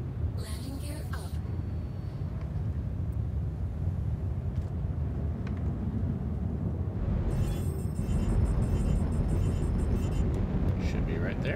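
A spaceship engine drones after launch in the video game Star Citizen, a steady low rumble with a brighter engine whine swelling midway. A synthetic voice makes brief announcements over it.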